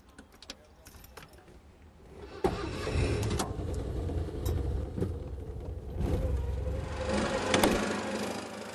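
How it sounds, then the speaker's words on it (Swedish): Citroën 2CV with a small 12-horsepower engine starting up and then running steadily inside the cabin, a buzzy continuous drone that rises after a few seconds, with faint clicks and rattles at the start. "En viss ljudnivå i kupén hör liksom till och så en 12 hästars motor"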